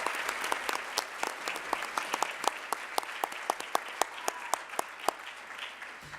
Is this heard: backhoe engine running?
no